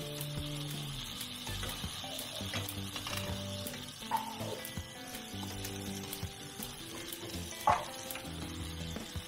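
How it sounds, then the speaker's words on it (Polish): Chopped onion frying in a little butter in a pan, a steady close sizzle with occasional stirring scrapes and a couple of sharp clinks, while background music plays softly underneath. "I podsmażamy"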